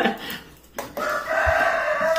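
A rooster crows once, loud and close, its long strained call rising and holding, after a few brief knocks and rustles.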